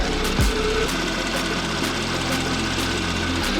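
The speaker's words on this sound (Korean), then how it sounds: "역시 휘발유 엔진인만큼 차량 엔진 소음도 정말 조용하고 정숙한 차량이고요" Gasoline engine of a flagship sedan idling with the bonnet open, a low, even hum with faint ticking, recorded up close at steady level for a few seconds, no voices present.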